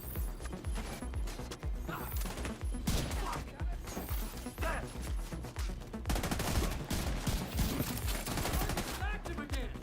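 Sustained gunfire in The Division 2 shooter game: rapid automatic bursts and overlapping shots crackle almost nonstop, loud and close, with brief gaps between volleys.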